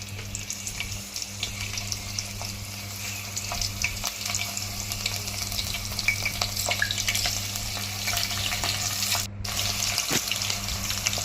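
Green chillies frying in hot oil in a pan make a soft, steady sizzle with occasional faint clinks and scrapes, fairly quiet and with no voices.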